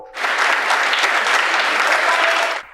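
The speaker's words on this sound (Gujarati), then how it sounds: "એટલે જોરદાર તાળીઓ." An audience at a women's day poetry event in Gandhinagar breaks into loud, sustained applause, with dense clapping that swells in quickly, holds steady for over two seconds, then cuts off.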